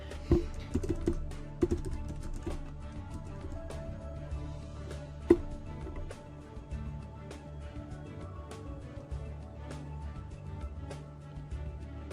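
Credit card details being entered on a computer keyboard come through as quiet, irregular key taps spread across the whole stretch, with a faint steady hum behind them.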